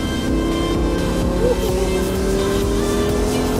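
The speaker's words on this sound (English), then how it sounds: "roll on the throttle again" A Lamborghini Gallardo LP 570-4 Superleggera on the Las Vegas racetrack, its engine droning loud and steady from inside the car as the throttle is rolled back on, with faint tire noise.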